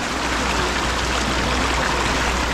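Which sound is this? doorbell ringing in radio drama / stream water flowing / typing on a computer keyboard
stream water flowing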